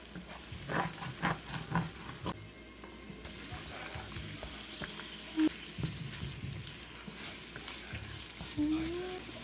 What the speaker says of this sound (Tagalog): Paminta habang nagpiprito.